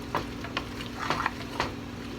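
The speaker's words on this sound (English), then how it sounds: "You're just gonna stir that around real good." A utensil stirs a meatloaf mixture with cream cheese around a sizzling skillet, scraping and tapping against the pan in a few irregular strokes over a steady frying hiss.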